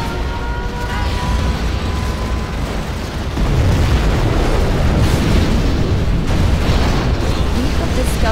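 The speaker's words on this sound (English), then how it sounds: "We have launched our nuclear missile." A loud roaring launch rumble of a nuclear missile in Command & Conquer Generals Zero Hour, swelling louder partway through and holding as a sustained blast-like roar, with a game voice line over the start.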